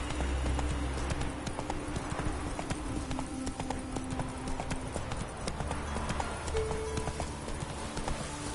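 Horse hoofbeats in a video game on PS5: a fast, steady clip-clop of galloping hooves held at moderate volume throughout, alone without talk.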